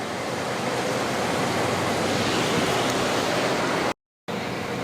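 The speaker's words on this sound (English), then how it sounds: "Look at this weather out here. Sheesh, it is pouring." Heavy rain pours down outdoors in a storm as a dense, steady, loud hiss that fills the clip, with a brief gap near the end.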